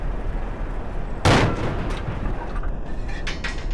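A French tank's main gun fires in the WWII tank game Battleground Europe: World War II Online, one sharp, loud blast rising out of a steady engine rumble and fading quickly.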